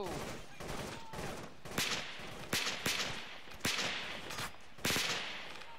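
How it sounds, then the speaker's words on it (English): Video-game gunshots from inside a building ring out as five sharp, fairly distant cracks spaced about a second apart, set against quiet background noise. "The shots coming from that building?"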